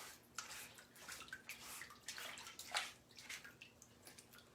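A transfer is swished and washed in a small tub of water, giving soft, irregular sloshing and splashing with light drips, close and fairly quiet, with no talking.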